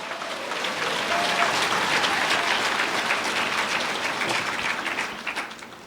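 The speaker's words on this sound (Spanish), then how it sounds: "Fuerte aplauso, aleluya." A church congregation in Sucre, Bolivia, applauds at a worship service, sustained crowd clapping building quickly and holding steady before tapering slightly at the end, with no talk over it.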